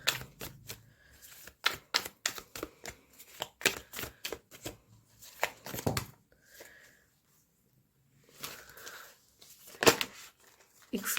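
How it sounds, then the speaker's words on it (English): Tarot cards being shuffled somewhat clumsily, a run of crisp riffling slaps and flicks in irregular bursts, close and fairly quiet, broken by a short pause and a few sparser card sounds. "Excuse my clumsy shuffling."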